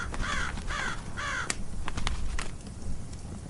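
A raven caws harshly several times in close succession, loud and near, with sharp clicks between the calls and no voices over it, set within a dark atmospheric reading of a classic poem.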